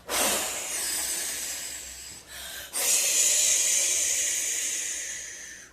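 A voice imitates rushing wind with two long breathy whooshing exhales, the second louder and sustained, separated by a brief pause at a children's Pentecost craft and story session.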